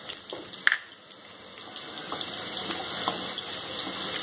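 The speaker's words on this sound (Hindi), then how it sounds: "इनको हम 1 से 2 सेकंड के लिए भूनने देंगे" Finely chopped ginger frying in a pan for sarson ka saag gives a steady, close hiss of sizzling that builds slightly over time, with a brief clack of a utensil near the start.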